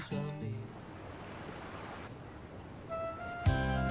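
Sea waves wash onto the shore as a steady, broad surf roar with some wind, briefly interrupted by tonal sounds near the start and end.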